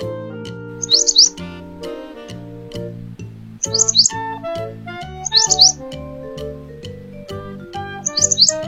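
A bulbul chirps in short bright bursts, four brief tweeting clusters spaced a few seconds apart, heard over a steady musical backing with no talking.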